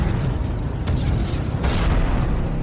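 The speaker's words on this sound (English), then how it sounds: "Explosions in the camp filled the small window, and Kate could feel the rush of heat, even" Explosions rip through a military camp in an audio drama, a dense roaring blast with two sharp booms cracking through, loud and close throughout.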